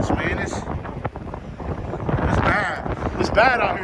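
Strong wind gusts buffet a microphone beside a truck on icy I-90 during winter storm Uri, a loud rushing roar that swells and dips over a few seconds, with faint speech underneath.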